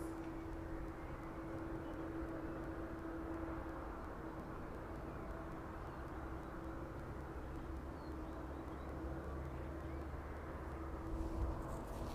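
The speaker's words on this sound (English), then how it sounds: "Quick look at these guys as they make their way down the runway then." Aircraft taxi down the runway at East Midlands Airport in the evening, heard as a faint, steady engine roar and hum that holds level throughout, with a slight swell near the end.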